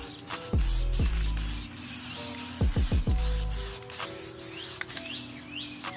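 Spray can applying Plasti Dip to a Jeep Cherokee, several short close hissing bursts with quiet gaps between them, heard without talk.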